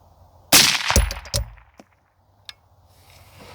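A rifle being sighted in at a shooting range fires a loud, close shot that rings out, followed by a couple of quick echoing cracks and a faint later report fading into quiet.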